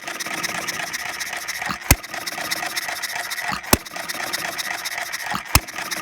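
A running half-scale hit and miss model engine fires three sharp, evenly spaced pops roughly two seconds apart over a soft, continuous mechanical whir while it coasts between beats.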